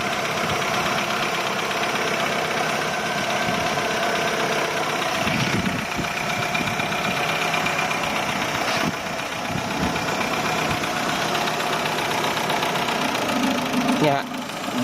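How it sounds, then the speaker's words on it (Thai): A Chevrolet Aveo engine idles after starting, a steady mid-pitched running hum with a faint knocking texture throughout, close and continuous, with a few brief thumps and handling noises over it. "ผมจะสตาร์ทเครื่องแล้วรถ"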